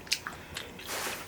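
Someone takes a bite of seasoned Korean food, with a few soft, wet, close mouth sounds: a sharp bite near the start, then quieter squishy chewing.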